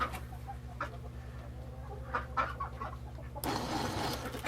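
Roosters on a farm cluck in short scattered bursts at moderate distance over a steady low hum, followed by a louder rustling burst near the end.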